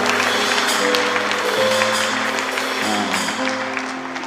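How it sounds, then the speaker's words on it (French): Applause from a church convention audience in Belgium: sustained clapping that fills the room, with a steady held tone of music underneath, slowly fading toward the end. "Acclamons-vous vous-même."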